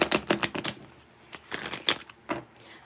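Tarot cards shuffled by hand in quick bursts of crisp, riffling clicks and flutters, close and fairly loud, with short pauses between runs and no talk.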